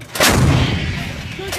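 An artillery gun fires during a bilateral US and Philippine Marine live-fire exercise, one loud, close blast with a booming rumble that decays slowly afterward.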